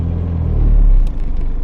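Diesel engine of a Citroen CX in poor condition rumbles loudly and close at idle as its hydraulic suspension raises the car, a steady low drone swelling briefly then settling.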